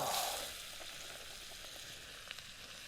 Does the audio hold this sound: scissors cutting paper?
no